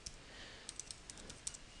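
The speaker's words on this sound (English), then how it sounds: "So once you have finished typing" Sparse keyboard clicks, a handful of light taps at irregular intervals, fairly faint over a low background hum.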